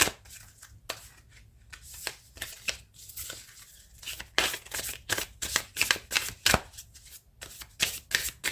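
Tarot cards shuffled by hand during a reading, a run of quick crisp riffles and slaps that grow denser and louder in the second half, close up with no talk.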